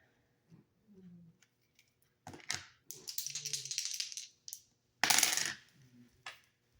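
Dice clatter and roll on a hard surface in several short rattling bursts, close and fairly loud, with quiet murmurs between.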